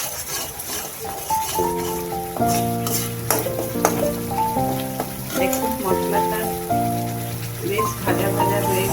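Spice masala for bhindi masala sizzles in hot oil with occasional stirring scrapes, a steady crackling hiss under louder background music.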